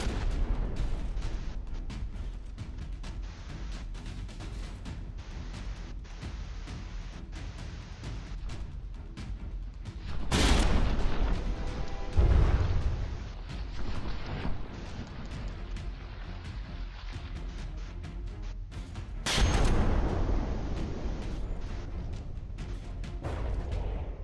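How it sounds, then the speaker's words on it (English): Warship guns in the naval combat game From the Depths keep up a dense, continuous roar of gunfire, with two heavy booming explosions standing out loudly above the steady barrage. "the Scimitar's guns are not going to just stop firing"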